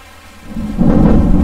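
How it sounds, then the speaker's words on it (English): A deep rumble of thunder with rain swells up over a second and a half, loud and heavy, with no voices. "I just want to apologize for the background sound because where I am now is raining."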